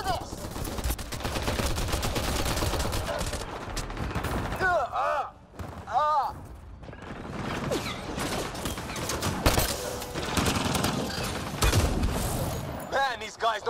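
Sustained gunfire in Mass Effect: Andromeda's prologue battle: dense, rapid bursts of shooting with mechanical clanks and whirring effects, briefly dropping away in the middle before the firing resumes heavily, with voices present in the mix.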